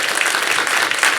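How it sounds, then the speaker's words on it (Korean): A church congregation applauds the children during a service, a brief burst of dense, bright clapping from many hands at close range, steady and unbroken. "우리 예배를 늘 따라오는 예배를 하는 우리 어린이들 박수 한번 해주세요."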